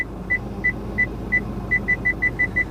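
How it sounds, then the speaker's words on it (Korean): A car reverses straight into a parking space with the steering wheel centred, a steady series of short parking-sensor beeps repeating over a low engine rumble and quickening toward the end, with no talking. "지금 그럼 핸들 중앙 일자 그대로 들어가면 주차 끝나는 거예요"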